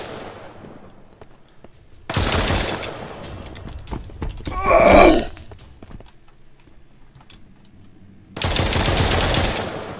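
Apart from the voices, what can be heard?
gunfire from Mist Survival video game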